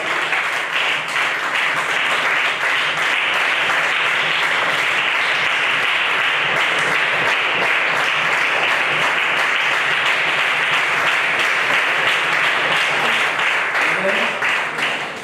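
A church congregation claps and cheers in praise at a French-language evening service, a dense, loud, sustained wall of applause that keeps going without a break, with voices mixed into it.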